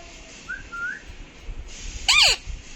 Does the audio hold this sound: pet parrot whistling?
yes